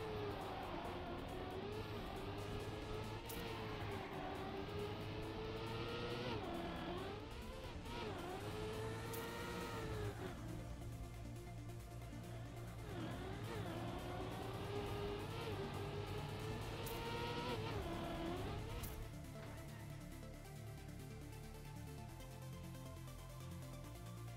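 Race cars in a racing video game drone through repeated rising and falling revs across gear shifts, a continuous buzzing engine tone held steadily throughout with no talk over it.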